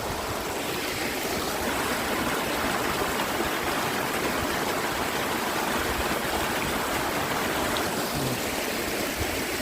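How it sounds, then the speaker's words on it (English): A small waterfall on an autumn walk in Glen Rushen pours steadily nearby, a dense, constant rush of water with no breaks and no voices. "another little waterfall"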